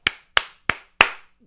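Four sharp, evenly spaced single hand claps, close and distinct with short ringing decays, followed by silence.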